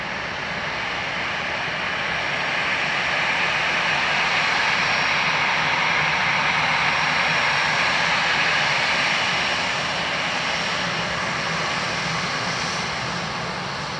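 A plane landing on runway 28 left at Dublin Airport produces a loud, sustained engine roar that swells toward the middle and eases slightly near the end, with no voices.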